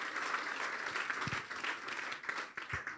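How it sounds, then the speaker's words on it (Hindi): A church congregation at a Good Friday service claps for a brother after his testimony, giving continuous, even applause that sounds somewhat distant and soft throughout. "तो हम ज़ोरदार तालियां बजाएंगे ब्रदर के लिए"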